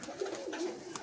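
Giribaz pigeons, a fine old breed kept at a home loft, give a short soft coo close by, a brief low murmuring call with no voices.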